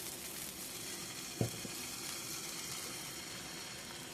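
Steady sizzling of oat-flake and water batter frying for lavash in a hot pan over high heat, close and continuous, with one brief knock partway through.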